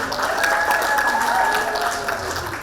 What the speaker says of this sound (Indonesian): Kita kasih tepuk tangan untuk kedua tim.